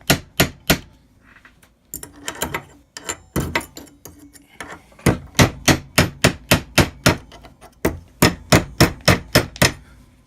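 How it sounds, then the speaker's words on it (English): A hammer strikes the metal claws of a homemade Freddy Krueger glove, peening them for a hammered finish, loud sharp close metallic blows in quick rhythmic runs separated by short pauses. "I like to kind of peen these over so they get that nice hammered look"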